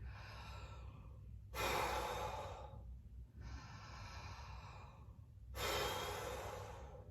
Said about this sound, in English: So breathe in and then forceful exhale.